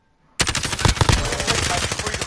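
Automatic gunfire in a video game erupts after a brief quiet start, dense rapid bursts of machine-gun shots continuing loud and unbroken to the end.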